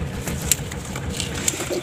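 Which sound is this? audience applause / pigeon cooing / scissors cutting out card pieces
pigeon cooing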